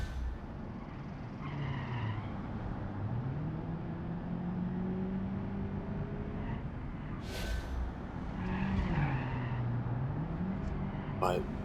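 A small front-wheel-drive car drives in the BeamNG.drive video game, its engine humming and rising in pitch as it accelerates steadily. Someone talks over the engine throughout.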